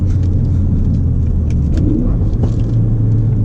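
A 2017 Ford Focus RS engine hums steadily as the car drives on, a loud, continuous low rumble heard from inside the cabin with no clear rev blips marking the downshifts.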